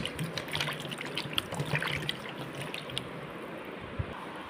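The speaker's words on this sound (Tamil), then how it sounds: "முதல்ல கோவக்காவை நல்லா வாஷ் பண்ணிப்போம்." Ivy gourds (kovakkai) are washed by hand in water in a kitchen, giving faint, soft splashing and trickling with small clinks, close by and with no talk.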